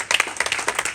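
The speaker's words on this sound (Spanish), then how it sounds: "No sé si le damos un fuerte aplauso al Señor." A church congregation claps during a Spanish-language worship service, a short burst of several distinct, fairly close hand claps in an uneven rhythm.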